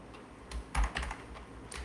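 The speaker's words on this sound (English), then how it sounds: "my typing is just horrible today" Quick bursts of keystrokes on a computer keyboard, irregular clusters of clicks with short pauses, close and fairly quiet.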